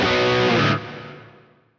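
An electric guitar through a Kemper Profiler on a Fireball Rock crunch tone sounds one loud distorted chord that rings, is cut off sharply and then fades out.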